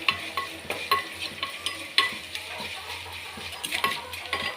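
Onions fry and are stirred in a pan for chicken gravy. The loud, steady sizzle is broken by repeated metallic scrapes and clinks of a spoon against the vessel, close up.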